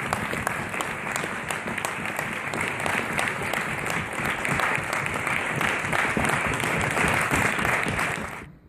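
A municipal council chamber breaks into sustained applause, dense steady clapping from many hands for about eight seconds that fades out at the end.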